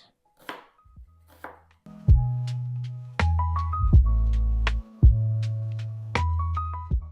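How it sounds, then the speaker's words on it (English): A knife roughly slicing an onion on a cutting board, a series of distinct loud close thuds in an uneven rhythm, with a couple of quieter taps at the start, no talking. "Give the onion a rough slice."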